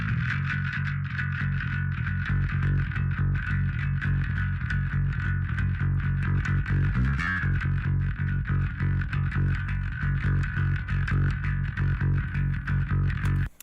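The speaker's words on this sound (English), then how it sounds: "It just adds distortion to the top end." A metal bass line has distortion added only to its top end, giving a gritty, buzzing edge over a steady low end, played continuously and loud with no voices.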